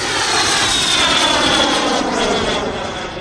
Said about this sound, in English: Here I am doing a loop with a very large turbine jet